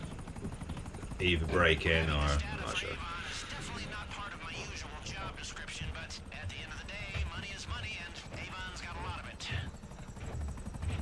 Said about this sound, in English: I'm guessing this chopper is going to be the one that gets us into the noose facility